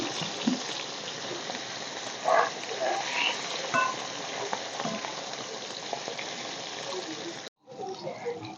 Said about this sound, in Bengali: তেল ভালো করে গরম করে নিয়েছি এখন মাছগুলো ভেজে নেব